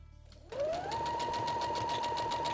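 A sewing machine runs a straight stitch along the edge of fabric for a table runner, starting abruptly and then holding a steady, fast, rhythmic whirring at close range with no talk.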